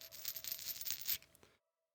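Hollow dice roll and clatter for about a second and a half in a quick, bright burst of close tumbling clicks, then settle into silence.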